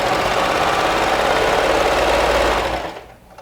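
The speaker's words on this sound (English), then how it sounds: "If you feel like your serger will not appreciate all these layers" A serger runs steadily at high speed with a dense mechanical whir, then slows and stops near the end.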